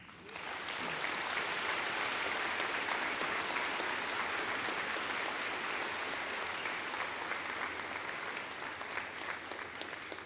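An audience at a high school graduation ceremony breaks into applause, a dense, steady wash of many hands clapping that rises quickly and holds for several seconds, heard at a moderate distance.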